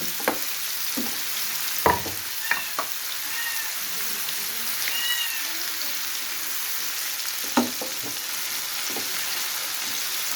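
Masala sizzles and fries steadily in a pan for a brain masala fry, a continuous hiss broken by a few sharp stirring clicks and scrapes, close and fairly loud.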